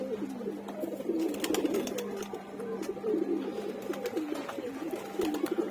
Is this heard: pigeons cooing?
yes